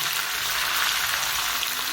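A chilli masala tempering sizzles in hot oil in a Gujarati home kitchen, giving a dense, continuous bright hiss and crackle that is close and loud, with no voices.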